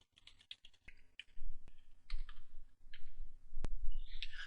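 Typing on a computer keyboard, a close series of crisp key clicks, sparse at first and then denser in quick irregular bursts, with one sharp louder tap.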